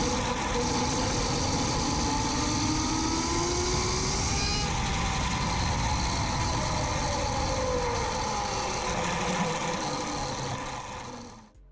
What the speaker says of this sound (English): For those of you guys wondering what the mini bike sounds like, here's a clip with raw audio.